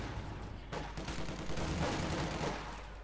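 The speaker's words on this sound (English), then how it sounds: "They got mortar going down the building" Mortar and gunfire in the World War II strategy game Company of Heroes 2, a short burst of explosive impacts and crackling shots at mid distance, fairly loud and without talk.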